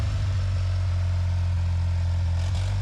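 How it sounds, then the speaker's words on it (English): An old car abandoned for about thirty years runs at a steady idle, with a deep, even engine rumble and a light clatter on top, close and alone, rising slightly near the end. "The engine just kicked over and is running."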